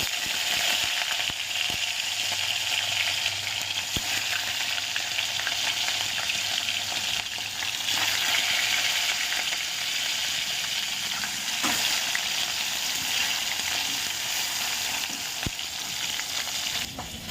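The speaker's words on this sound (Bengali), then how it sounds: "আর এই দিকে দেখতে পাচ্ছ তেলটাকে গরম করতে বসিয়ে দিয়েছি। চলো মাছটা ভাজা বসিয়ে দিই" Fish fries in hot oil with a constant dense sizzle and crackle that runs throughout, broken by a few faint clicks and stirring sounds.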